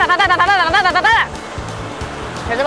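Water rushes steadily at Sabino Falls in the Tunnel of Love, a close, broad roar heard under a voice that fills the first half and then continues on its own.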